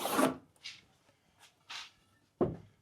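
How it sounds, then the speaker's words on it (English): A pen drawn across a cut piece of wood to mark a line in a garage, producing a few short, close scratchy strokes separated by brief silences. "So I'll just mark a line with my trusty pen."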